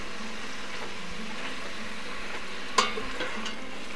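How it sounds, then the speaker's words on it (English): Mushrooms stirred in oil in a hot pan, a steady close sizzle with soft scraping strokes and one sharper clack of the utensil against the pan. "Just stir them around to make sure they're getting well coated with the oil"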